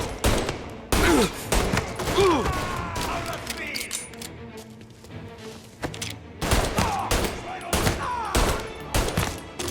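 Bursts of gunfire in a shootout in the video game Mafia, loud volleys of shots and automatic fire in clusters separated by shouted voices and a brief lull.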